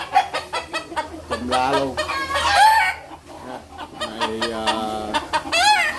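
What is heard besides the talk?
chickens clucking and rooster crowing in small coop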